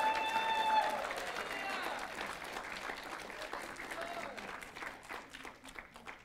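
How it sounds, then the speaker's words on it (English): Congregation in a church clapping, the applause fairly soft and tapering off over a few seconds, with voices and a little cheering mixed in beneath it. "I think we ought to give God a big hand clap."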